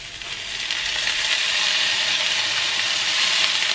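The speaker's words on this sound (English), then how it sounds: "Potatoes cooking away nicely." Potatoes fry in a pan with a steady, dense sizzle that stays loud and close, with no talking over it.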